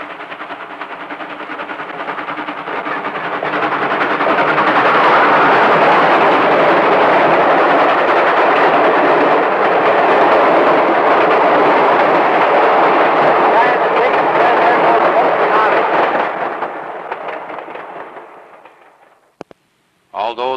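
A downbound freight train rumbles past on the tracks near a pusher siding, a loud, steady roar that swells over five seconds, holds for about ten, then fades before a brief knock at the end.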